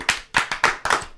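A small group claps for two guests in a studio, five or six quick, close, sharp hand claps in a brief uneven rhythm, with no talk over them.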